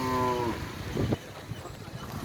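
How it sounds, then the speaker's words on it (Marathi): Bulls at a bullock cart race in Kalamba, Kolhapur give a long, low moo near the start over steady outdoor crowd and ambient noise. "बैलगाडी आणि बैलांच्या जोडी या ठिकाणी आलेल्या तुम्हाला दिसतात।"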